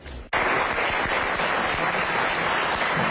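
Applause from an audience at a Rotary Club of San Francisco ceremony honoring public servants, dense steady clapping starting sharply after a short pause and continuing loud and even.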